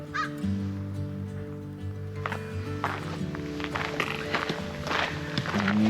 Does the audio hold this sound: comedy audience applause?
no